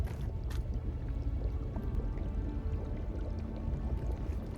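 Geothermal water boils in Rotorua, New Zealand, giving a steady, close, low churning and bubbling like a pot on a stove, continuous throughout.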